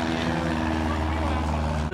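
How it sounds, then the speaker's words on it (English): A propeller airplane drones overhead with a steady low engine hum and tonal buzz, fairly loud and constant throughout, with no talking over it. "Let's wait for this plane to go by again."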